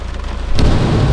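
Pouring rain drums loudly on a car, heard from inside the broken-down Evo, and swells heavier midway through with a steady dense roar; no talking.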